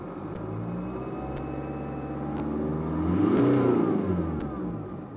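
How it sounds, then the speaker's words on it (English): Car engine revving under a throttle controller set to its least sensitive economy mode, a steady mid-pitched hum that swells to a louder peak midway and then eases off slightly, with no voices. "I had to basically push my foot flat to the floor to get it to rev out there"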